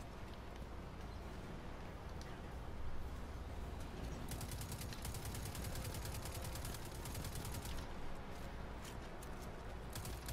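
Gunfire in the shooter game Destiny, with bursts of rapid shots crackling in the background. The shooting is dense and continuous through the middle, with a noisy game ambience underneath and no talk.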